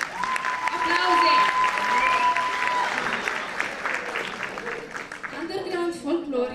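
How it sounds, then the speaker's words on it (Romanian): Audience applause at a secondary school freshman gala in Moinești, Romania, loud and sustained across a hall, with a bright tone ringing through it early on and cheering voices rising toward the end. "Aplauze!"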